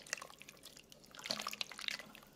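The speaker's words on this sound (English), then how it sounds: "I'm adding hot water from our kettle." Hot water from a kettle poured into a chili beef stew, heard as soft dripping and splashing liquid sounds with irregular small splashes, fairly quiet throughout.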